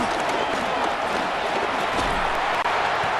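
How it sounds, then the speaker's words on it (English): Steady, dense roar of a stadium crowd in a Madden 26 football game between the Patriots and Jets, a continuous wash of cheering and noise with no letup across the few seconds. "This crowd turning up the decibel level"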